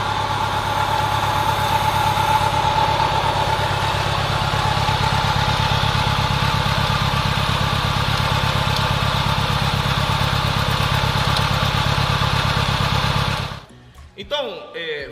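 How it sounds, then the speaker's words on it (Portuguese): A 5 hp electric motor drives an oil-free friction test machine, producing a loud, steady mechanical drone with rapid vibration that runs evenly for most of the time, then cuts off abruptly into a brief clattering stop. "Colocamos um motor gigante, um motor de 5 CV, nessa máquina"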